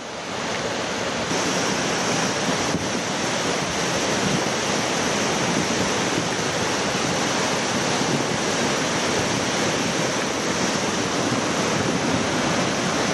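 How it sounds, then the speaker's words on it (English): A swollen river rushes past a gate near a large swimming rock, carrying debris downstream in a loud, steady roar of broadband water noise that continues unbroken with no talk. "Lots of debris coming down the river."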